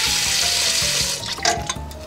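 Pickling brine from a corned beef is poured into a kitchen sink, a loud, steady gush of splashing liquid that breaks into uneven glugs and splatters as the pour tails off, with no talking.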